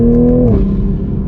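A modified 2021 Toyota Supra with a catted downpipe revs hard and close, its engine note dropping as it shifts, then continues in a loud, raspy drone.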